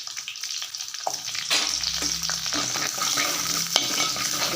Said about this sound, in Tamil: எண்ணெயிலேயே சின்ன வெங்காயம் அடுத்து பூண்டு போட போகிறோம் ரெண்டும் நல்லா எண்ணெயிலேயே நல்லா வதங்கணும்